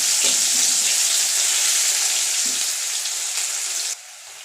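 Chopped onion hits hot oil with browned cumin seeds and fries in a steady loud sizzle, a few stirring clunks early on, then the hiss drops sharply near the end.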